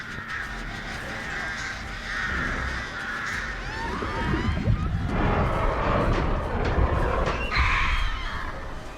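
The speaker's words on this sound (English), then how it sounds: "The birds go all the way across the map." Crows from The Artist, a killer in the video game Dead by Daylight, caw repeatedly and harshly throughout, with scattered rustling and clattering game noise underneath.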